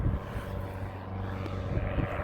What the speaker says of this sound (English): An aircraft taking off here.